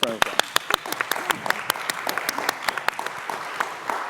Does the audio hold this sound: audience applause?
yes